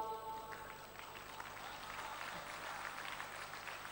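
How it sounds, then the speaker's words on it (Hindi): A crowd applauds steadily, a dense wash of many hands clapping together at moderate volume with no pauses. "भाई ताली बजाओ तो फिर एक साथ बजाओ सारे लोग"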